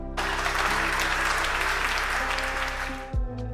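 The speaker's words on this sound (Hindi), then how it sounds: "एक बेहद शानदार और जानदार डांस परफॉर्मेंस के बाद दर्शकों ने उत्साह के साथ तालियां बजाईं।" An audience bursts into enthusiastic applause after a dance performance, a dense, steady wash of clapping over a low musical drone that fades out after about three seconds.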